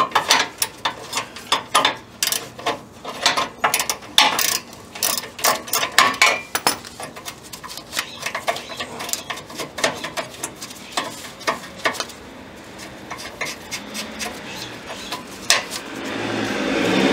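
Wrench work on an exhaust clamp under a 1962 Jaguar E-Type: quick bursts of ratchet clicking and metallic clanks, loud and close, pausing and resuming, then lighter tool sounds.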